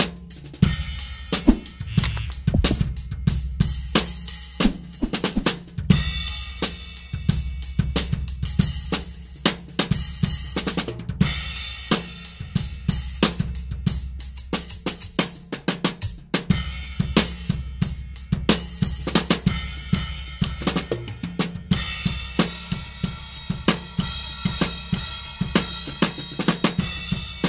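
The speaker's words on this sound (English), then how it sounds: "So what you just heard were the Sabian Quiet Tone cymbals." Drum kit played in a steady groove with hi-hat and crash on Sabian Quiet Tone low-volume cymbals, the cymbals sounding muted and subdued rather than bright and washy.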